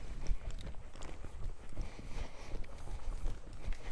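A young horse being ridden under saddle on its first day learning to canter, hooves clip-clopping in a steady loose rhythm of soft thuds on the ground, moderately close with no talk.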